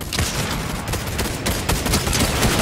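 Gunfire and sniper shots in the video game Fortnite, loud rapid volleys running continuously with sharper individual cracks standing out, close and dense.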